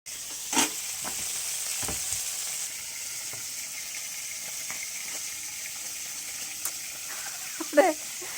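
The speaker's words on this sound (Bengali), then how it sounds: "দেখো বন্ধুরা, মাছ ভাজা হচ্ছে।" Fish sizzles steadily in a hot pan in a village kitchen, a continuous close frying hiss with a few scattered clicks and stirring knocks.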